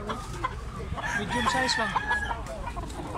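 A medium-sized black stag rooster clucks and calls close by. Someone talks over it amid farmyard background noise.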